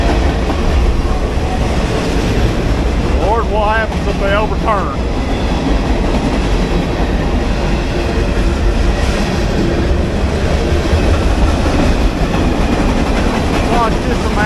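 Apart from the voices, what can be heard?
freight train with tanker cars passing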